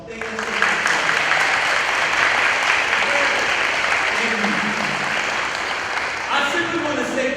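An audience at a high school AVID early college cording ceremony claps steadily in a sustained round of applause, dense and even, easing slightly near the end, with faint voices underneath.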